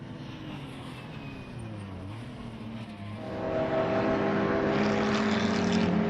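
Engines of BMW club race cars lapping a circuit during a Class D and Class E race, a steady drone that swells louder around midway as cars pass nearer, with no talk.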